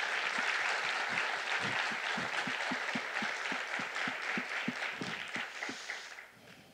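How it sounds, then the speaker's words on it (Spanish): An audience applauds the Colombian contributors at a talk, steady dense clapping with a few louder individual claps standing out, moderately distant and fading away at the end. "les pido sean tan gentiles de dar un fuerte aplauso a todos los colaboradores colombianos"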